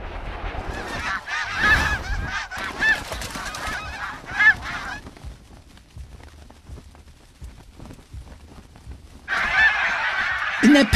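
A flock of snow geese honking in panic as eagles fly at them, dense overlapping calls in bursts, fading to a quieter stretch before a loud burst of honking returns near the end.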